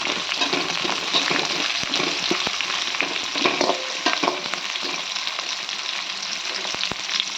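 Onions and curry leaves sauté in oil for a spicy Tamil chicken gravy, giving a steady, close sizzle throughout with scattered clicks and scrapes of stirring and no voices.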